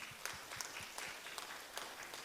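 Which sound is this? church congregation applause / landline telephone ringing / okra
church congregation applause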